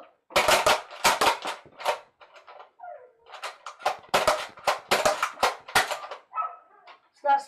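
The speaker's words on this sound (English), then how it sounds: "So this is slam fire with the elite darts." Nerf Elite Strongarm revolver slam-firing Elite foam darts in a rapid burst of sharp snapping shots, two quick volleys separated by a brief pause, close and loud with faint mechanical clicks between.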